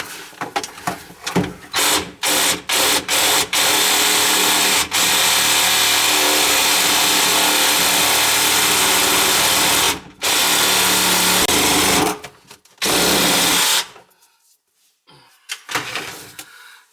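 A power tool whines loudly while cutting through a grease-clogged kitchen sink drain pipe on a lower-level plumbing job, running in long sustained bursts with brief stops and a few short restarts near the end.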